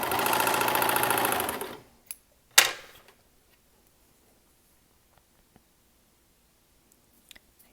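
A Brother serger runs a rolled hem in a quick, loud burst of rapid mechanical stitching that stops abruptly, followed by a couple of sharp clicks and near silence.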